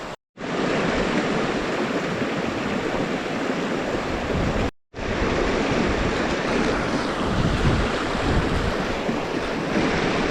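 A river rushes steadily in the Lake District fells, a loud, continuous broadband wash of water close by, with a brief cut near the start and another around the middle.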